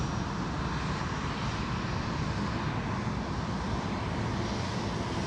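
Singapore Airlines airliner taxiing at Sydney Airport, turning onto a taxiway; a steady, moderate engine rumble and broadband whoosh holds evenly throughout at middle distance, with no voices.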